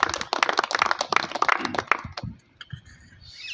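A village crowd claps to welcome a speaker, a burst of loud rapid clapping that thins to a few scattered claps and fades out near the end.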